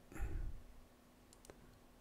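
Computer mouse clicks at a desk: a soft thump and click near the start, then a couple of quiet, crisp clicks about a second later against a faint, steady hum.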